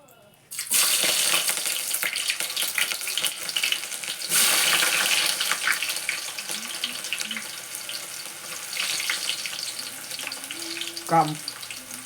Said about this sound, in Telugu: నూనె వేడయింది మనమైతే ఉల్లిగడ్డ చూడండి ఇప్పుడైతే నేను వేసుకుంటా